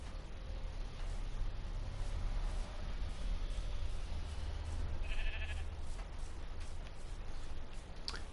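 A sheep bleats once, faint and brief, in Minecraft on PS4 vanilla survival, set against a steady hiss of background noise.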